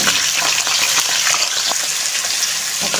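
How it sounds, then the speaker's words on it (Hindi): Mutton liver (kaleji) frying in oil with carom seeds: a loud, dense, close sizzle hisses continuously, with faint crackles from the pan and no voices. "अब इसको थोड़ा सा अच्छे तरीके से फ्राई कर लेंगे। कलेजी इसमें अब डालते हैं"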